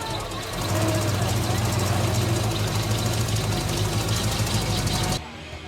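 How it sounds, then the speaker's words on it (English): A hot rod car engine starts and settles into a steady, loud idle with a low rumble that runs for about five seconds, then cuts off abruptly. "I'm gonna start her up, let her run for a couple minutes, get the oil pumping through the engine"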